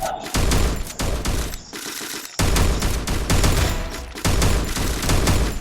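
Gunfire in the mobile battle royale game Free Fire, with dense bursts of rapid shots in several volleys separated by brief pauses, loud and close.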